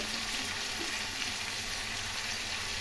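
Chopped ginger, onion and garlic frying in a pan, giving a steady, dense sizzle close up that holds evenly throughout without any speech.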